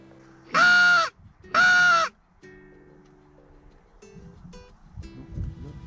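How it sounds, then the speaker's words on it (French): Crows arrive over farm fields during a crop-protection hunt: two loud, harsh caws in quick succession, then fainter, scattered calls further off. "Et très vite, les premiers corbeaux arrivent."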